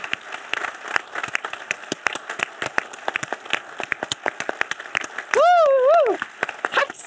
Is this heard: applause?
yes